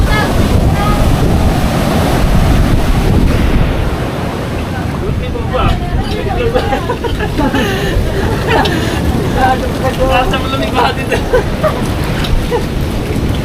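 Huge ocean waves roar steadily with heavy wind buffeting the microphone, while people talk and murmur nearby throughout.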